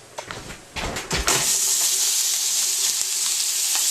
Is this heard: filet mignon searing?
yes